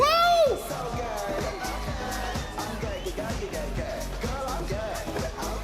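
An audience applauds a jury member at a drag queen gala during the 2025 Vinaròs carnival, steady rhythmic claps running under music and a voice throughout.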